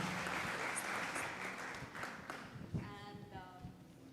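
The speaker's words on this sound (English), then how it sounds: "Please give a big round of applause to Savita for joining us today." Audience applause at a Rotary DEI awards ceremony, a fairly faint patter of clapping that fades after about two seconds as a speaker's voice comes in over the tail end.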